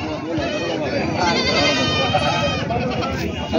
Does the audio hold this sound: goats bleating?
yes